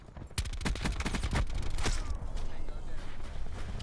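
SMGs fire rapid bursts in an online shooter match, dense fusillades of gunfire stacking close and loud with brief gaps, over steady game ambience and faint footsteps.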